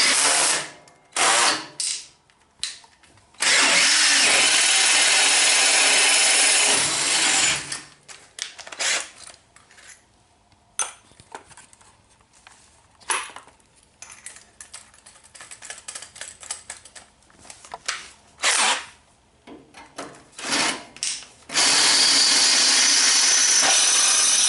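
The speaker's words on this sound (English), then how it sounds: "I'm going to get these holes drilled and some bolts put in." A power drill bores holes through a steel steering box brace that is being fitted to a vehicle frame. The drill whines loudly in long runs, broken by pauses and quieter clicks and handling noises.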